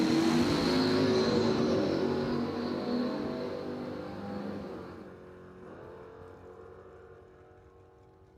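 A green Chevelle and an old Pontiac launch at a drag strip, engines roaring loud at first, then fading steadily into the distance until only a faint rumble remains.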